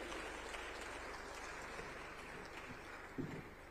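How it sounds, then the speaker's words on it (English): An audience at a Tanzanian ICT conference in Dar es Salaam applauds, sustained dense clapping heard from a distance and fairly faint, with a slight knock near the end. "Another round of applause for Dr."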